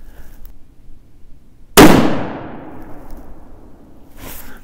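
A single loud, sharp crack of a Ruger M77 bolt-action rifle in .243 firing on a range, with a long decaying echo after the blast and a faint second noise near the end.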